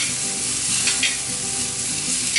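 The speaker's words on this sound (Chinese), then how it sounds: "用这个锅子我们来炒洋葱" Onions stir-fried in hot oil in a pan for japchae, a steady close sizzle with a couple of soft scraping stirs midway.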